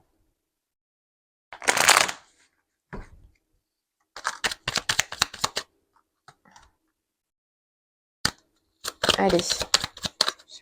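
Tarot cards are shuffled and snapped in short bursts: a brisk riffle, then a run of quick crisp flicks and a final flurry, close and clear, separated by silences, with a brief spoken word.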